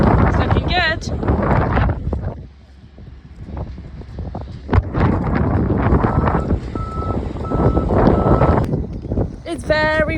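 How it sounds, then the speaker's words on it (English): Strong wind buffets the microphone outdoors on a sheep farm, with heavy gusty rumble swelling and dropping while people talk over it nearby. "It's very windy."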